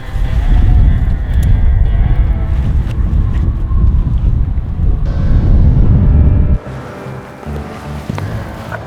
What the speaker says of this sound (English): I knew the wind would be blowing pretty hard up there, but I had no idea it'd be blowing as hard as it was.